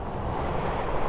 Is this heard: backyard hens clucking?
no